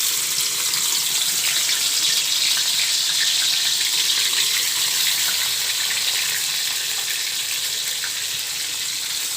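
Chopped onions frying in hot oil for a country duck curry, a loud, steady, bright sizzle that holds unbroken throughout, with no talking.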